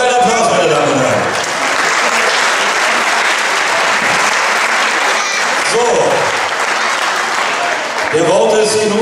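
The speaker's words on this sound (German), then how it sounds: "ein Applaus, meine Damen und Herren" Spectators at a regional-league wrestling final between HK H.R.V. and AC Germania Artern II give loud, sustained applause, with an announcer's voice speaking over it at the start, middle and end.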